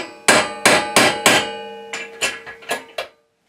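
A hammer strikes a part on a cast iron DML305-M33 six-speed midi lathe, with timber laid over the bed. About eight loud, close, sharp blows come in a steady rhythm, the later ones a little softer.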